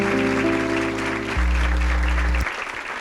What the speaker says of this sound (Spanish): Un aplauso a la palabra de Dios.